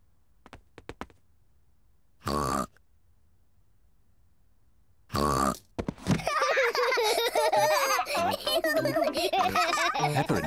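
Children's voices chirp and squeal in playful, exaggerated bursts imitating parrots, from the cartoon Peppa Pig, starting with short separated calls, then a busy stretch of giggly, sing-song imitation.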